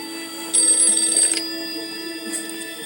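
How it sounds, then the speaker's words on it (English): A telephone bell rings in a short burst, bright and clear over a quiet background hum, then stops and leaves a faint trailing tone. "Then the telephone rang."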